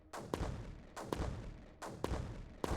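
Mortars firing in the video game Creeper World 4: three evenly spaced dull thumping launches, each followed by a short rumbling tail, close and moderately loud with no voices.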